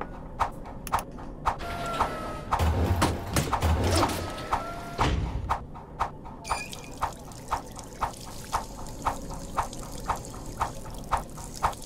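Water pours in Job Simulator, a VR game: a few seconds of loud liquid gushing and trickling stand among regular, evenly spaced clicks and taps that continue before and after.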